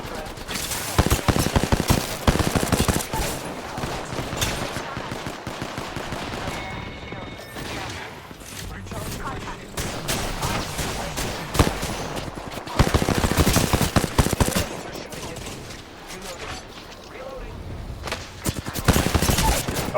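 Video game gunfire rattles in dense repeated bursts, with heavy volleys near the start, in the middle and toward the end, while a voice talks over parts of it.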